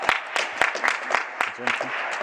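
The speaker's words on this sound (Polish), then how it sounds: "Jeszcze raz brawa dla mnie." Applause and scattered clapping from a small crowd at a darts trophy ceremony, sharp claps spread across the moment with some voices mixed in.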